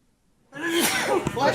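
A single sneeze bursts out at a council meeting after a moment of quiet, loud and close, with a breathy intake and a sharp release.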